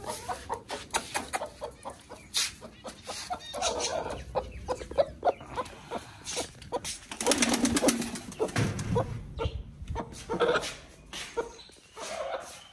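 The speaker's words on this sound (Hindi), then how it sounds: "वो देखें कबूतर बाहर" Pigeons outdoors coo and flutter while pecking at scattered feed grain, their soft calls mixed with scratchy clicks and rustling close by.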